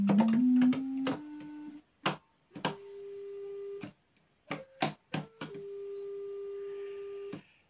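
A heavily filtered analog synthesizer tone, soft and hollow, almost a pure sine with a flute-like quality, plays a sequence of sustained notes at different pitches separated by short gaps and faint clicks.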